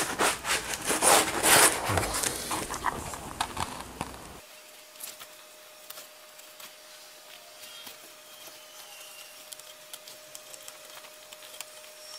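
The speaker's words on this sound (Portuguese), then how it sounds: "com o mesmo estilete que a gente utilizou para fazer o recorte no papel, a gente vai fazer o recorte na lixa" A craft knife scraping and cutting through a sheet of sandpaper for a skateboard logo stencil, close and rough rasping strokes for a few seconds, then fading to near silence.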